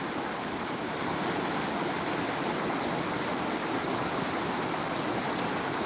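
Steady broadband rush of the Salmon River at Pulaski, New York, flowing continuously and fairly loud with no pauses, a constant wash of moving water close by and no voices.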